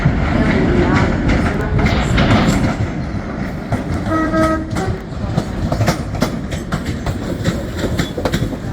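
A train horn sounds briefly at a busy Edinburgh Waverley station, a short two-tone blast partway through, set against loud rumbling rail noise and station clatter.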